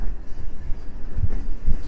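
An old EU07 electric locomotive hauls a replacement train, a low steady rumble with faint rail knocks and wind noise, heard briefly at moderate distance without talk.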